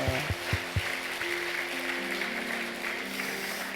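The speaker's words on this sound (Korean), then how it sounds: "박수하겠습니다." A church congregation at a Sunday service claps in a soft, spread-out round of applause, with a few distinct thumps at the start and low music sustained underneath.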